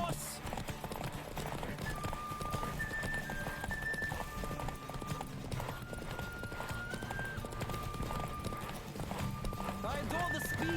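A horse's hooves gallop in a steady, rapid clip-clop rhythm in the game The Witcher 3: Wild Hunt, moderately loud under ambient game sound and voices talking.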